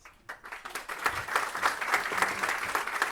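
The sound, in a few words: audience applause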